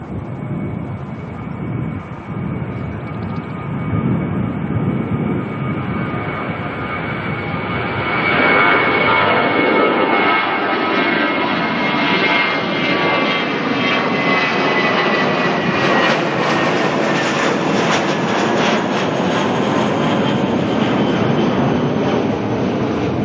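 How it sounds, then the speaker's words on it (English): A Singapore Airlines A380 takes off from Auckland Airport, engines building from a rumble into a loud, sustained roar as it climbs and passes, with a high whine riding over the thunder. "Got a departure rolling here off to Christchurch."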